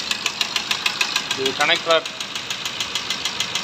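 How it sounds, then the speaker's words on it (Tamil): A diesel engine in an Ertiga idles with a steady, regular knocking from a worn connecting rod, each rhythmic tick loud and close, while someone briefly speaks over it. "கனெக்டராட்லேருந்து சவுண்ட் வருது."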